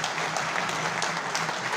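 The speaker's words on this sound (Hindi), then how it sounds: "हम सब लोगों को इनके लिए ज़ोरदार तालियां बजानी चाहिए एक बार" An audience at a Ramlila stage performance in a Delhi hall gives loud applause, a continuous, even patter of many hands clapping together, moderately distant and with no talk over it.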